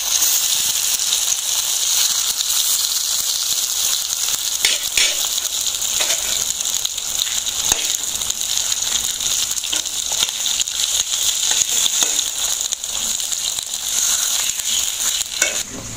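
Hot oil sizzles and fries steadily in a pan on a gas stove, a loud, continuous hiss with scattered pops and crackles throughout, with no talking.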